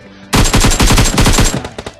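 Automatic gunfire in the PUBG video game, a loud close burst of rapid shots lasting over a second, then a few scattered trailing shots.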